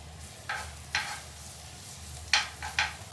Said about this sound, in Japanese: お、ジュージューなってきた。